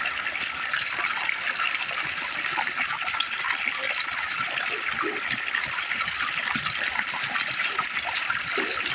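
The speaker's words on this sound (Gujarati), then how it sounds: "મારો છોકરો પાણી વાળે છે." Irrigation water gushes and flows through a farm field as a boy channels it, a loud, steady rushing and splashing that continues without a break.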